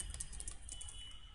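Typing on a computer keyboard during a C programming lesson, a short run of light, quick key taps, fairly soft, with no talking over it.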